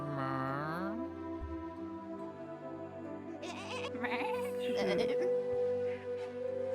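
A goat bleats in the video game Chimeraland, a wavering cry at the start followed by other in-game tones, while a person talks over much of it.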